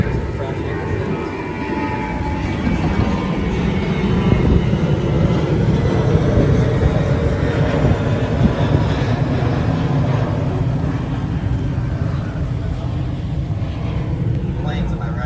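An airplane passing overhead at Point Loma during an outdoor gathering: a loud, broad roar that builds, holds for several seconds and slowly eases, with faint voices underneath.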